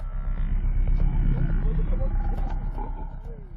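Lion roaring during an attack on a buffalo in the wild, a deep rumbling roar under a steady low din of the herd, with voices talking over it.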